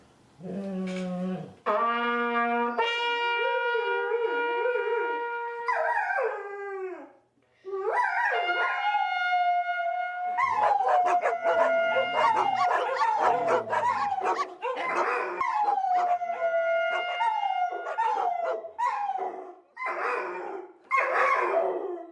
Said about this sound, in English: the dog starts howling and sets off all the other dogs in the neighborhood